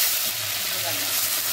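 Tempering spices sizzle in a spoonful of hot oil in a clay pot on a stove, a steady close frying hiss with no breaks.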